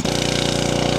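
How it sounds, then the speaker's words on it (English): A generator runs steadily to power a water well drilling rig in Umudim, Imo State, Nigeria, giving a loud, continuous engine drone with an even low pulsing throughout and no talk. "The rod and the starting the generator that give them strength to drill."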